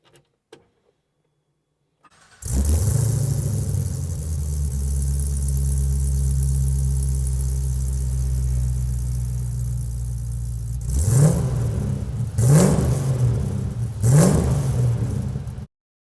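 A 1967 Chevrolet Camaro pro-touring muscle car cranks over and catches into a loud, deep idle that holds steady for several seconds, then three sharp throttle blips rev the V8 near the end before it cuts off.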